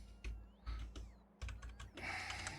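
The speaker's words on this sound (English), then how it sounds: "now that I can hear your keyboard" Clacky keystrokes on a computer keyboard come in short irregular bursts, quiet and close, ending in a denser rush of key noise.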